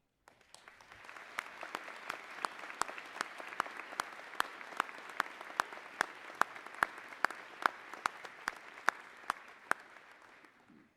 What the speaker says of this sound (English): Will those students, faculty, and staff who are wearing red, white, and blue cords please stand for a round of applause.